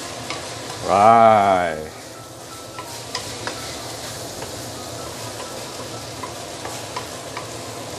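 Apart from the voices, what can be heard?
stir-frying long beans in a pan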